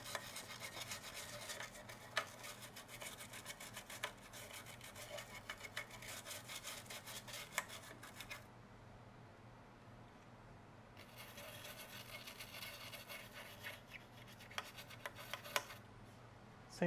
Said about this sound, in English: I like to use my horsehair brush at this point. Just going to scrub down.